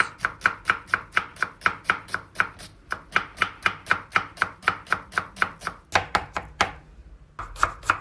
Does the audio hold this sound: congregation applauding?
no